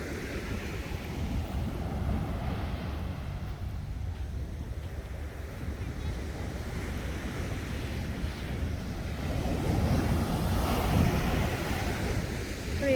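Sea waves washing on the shore along a beach walk, a steady heavy roar with gusty wind buffeting the microphone, swelling louder near the end, no talking.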